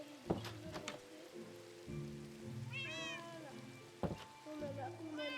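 Cats meowing in a Minecraft game, several short mewing calls spread across a few seconds over a crackling rain-like hiss, with a voice speaking in between.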